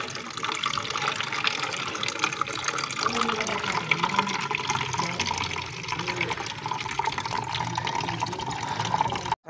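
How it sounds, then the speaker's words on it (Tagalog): Water poured and splashing into a homemade pigeon drinker, a continuous close filling gush with bubbling that rises slightly in pitch as the container fills, ending abruptly. "Kargan na natin ang tubig."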